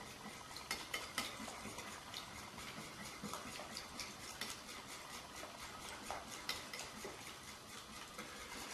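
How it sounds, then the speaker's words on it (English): A spoon scrapes and knocks steadily around a mixing bowl as sugar-free lemon poppy seed muffin batter with baking soda is stirred, giving a repeated close clatter with no talking. "So now we'll mix this in."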